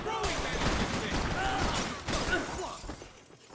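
Dense gunfire from the Max Payne 3 video game, with shots striking enemies in rapid overlapping bursts, mixed with shattering, crunching impacts and a muffled voice underneath. The clamor stays loud throughout and eases slightly near the end.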